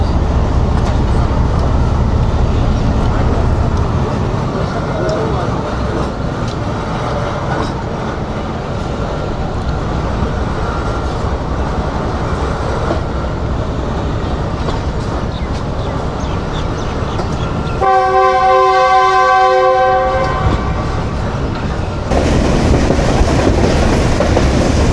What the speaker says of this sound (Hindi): 2 मिनट रुकने के बाद ट्रेन बढ़ रही है पब्बी रेलवे स्टेशन से